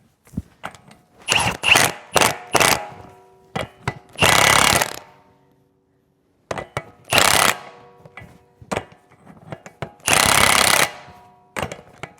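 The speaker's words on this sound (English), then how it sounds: "I am gonna just slightly snug the axle nut down with the impact" An impact wrench snugs a Jeep Wrangler JK front axle nut during a wheel bearing replacement, firing in several loud hammering bursts of about a second each, separated by clicks, ratcheting and brief silences, no talking.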